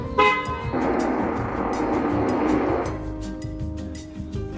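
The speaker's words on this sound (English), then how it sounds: "So it has to make the car horn noise first, right?" A lime green Tesla car horn sounds in one sustained honk of about two seconds, loud and close, preceded by a short toot, with light background noise and faint clicks around it.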